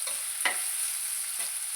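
Onion, ginger, green chili and curry leaves sauté in a pan for a sardine curry, a continuous bright sizzle broken by two quick stirring scrapes, close and alone without voices.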